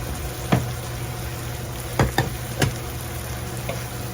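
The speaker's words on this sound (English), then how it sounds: "You just want to cook the corn tortillas for a few minutes in the oil" Bite-sized corn tortilla pieces fry in hot oil in a budget family meal, a steady close sizzle broken by a few sharp pops and stirring clicks, with no talking.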